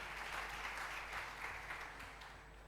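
A church congregation applauds the music group, a steady broadband wash of clapping held at an even level throughout, with no talk over it.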